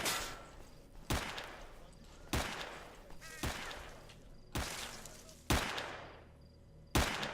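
Repeated loud shotgun blasts from S.T.A.L.K.E.R. Shadow of Chernobyl, six or seven heavy booms at irregular intervals, each with a sharp crack and a long decaying tail, with a faint background hum between shots.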